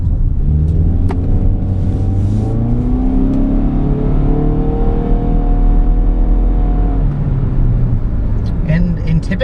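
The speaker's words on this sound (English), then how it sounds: "this car basically moans and groans every time you get near the throttle, and it's definitely a pretty noisy experience from behind the wheel" A 2013 Jeep Compass with a CVT drones and moans loudly while driving, its engine note rising and falling steadily under the throttle, with a low rumble throughout and light clicks near the end.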